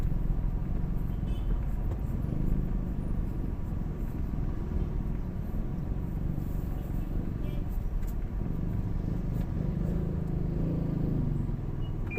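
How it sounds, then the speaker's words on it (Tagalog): Road traffic heard from inside a moving car in the Las Piñas City area, a steady broadband cabin rumble of engine and road noise throughout, with faint ticks and passing vehicle sounds and no clear speech. "Traffic, normal na yan sa atin eh."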